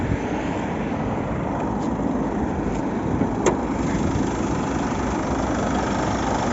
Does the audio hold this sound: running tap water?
no